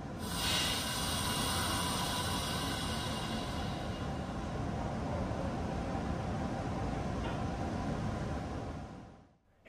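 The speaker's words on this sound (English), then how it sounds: "they release the dynamic brakes and allow for air to flow through the tanks" Steady broadband hiss and rumble of air rushing through an MBTA train's brake tanks as the dynamic brakes release, holding loud and even before cutting off abruptly near the end.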